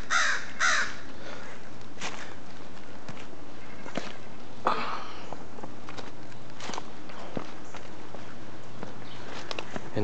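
Crows caw twice near the start, loud and harsh, along an overgrown disused rail line, then footsteps crunch along at a steady pace.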